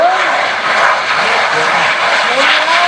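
A bang fai rocket launches at the Kut Wa rocket festival in Thailand with a loud, steady roaring rush of thrust that holds throughout, under crowd noise and voices.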